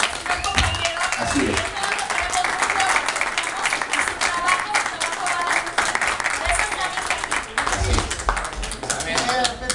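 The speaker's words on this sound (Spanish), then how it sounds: "yo creo que merece un aplauso" A theatre audience claps and applauds throughout a stage-play presentation, a dense wash of hand claps with scattered louder individual claps, while a voice speaks over parts of it.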